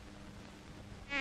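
Flies buzz in a continuous, close insect drone that swells into a louder, more tonal whine near the end.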